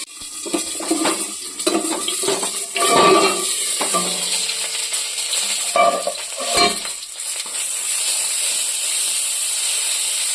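Two tomatoes frying in hot oil, with a continuous loud sizzle and hiss of steam up close, broken by scraping stirs and clatters of a utensil in the pan.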